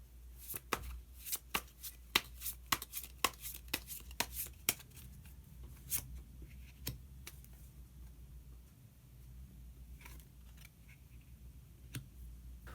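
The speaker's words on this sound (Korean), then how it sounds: "그러면 마지막으로 히든카드 한 장 더 뽑아보도록 하겠습니다" Tarot cards being shuffled and drawn by hand at a reading table: a run of crisp, close card snaps and flicks, dense at first, then sparser single slaps, with no talking.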